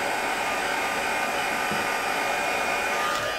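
A heat gun blows steadily with a constant broadband whoosh, drying ink colored onto a craft note holder. The sound stays close, loud and unbroken for the whole stretch, with no talk over it.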